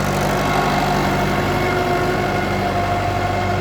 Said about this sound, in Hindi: इसका गियर बॉक्स प्रॉब्लम कर रहा है। पता नहीं पे की आवाज़ निकाल रहा है।